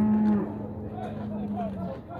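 Heifers at a cattle fair in Águas Belas, Pernambuco: one long, steady low moo sounds at moderate distance, followed by a second drawn-out bellow over faint market background noise.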